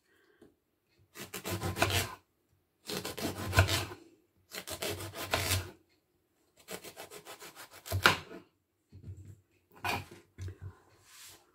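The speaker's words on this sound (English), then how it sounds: "I've washed the aubergines and we're going to cut them" Knife chopping washed aubergines into big inch-sized chunks for a vegan curry, five or six separate bursts of rough cutting and rasping spaced by short pauses, close and fairly quiet.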